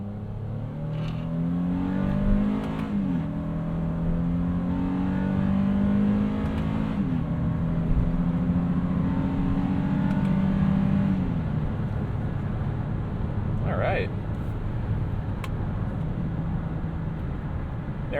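A 2023 Honda Ridgeline Black Edition V6 revs hard past 5,000 RPM from inside the cabin, its steady loud drone climbing in pitch through the gears with brief shift dips, then settling into a lower cruise.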